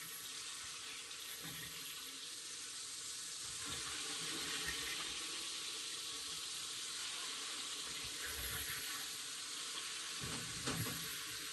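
Food fries in hot oil while cooking outdoors at a holiday picnic, a steady dense sizzle and hiss running throughout with a few louder crackling swells.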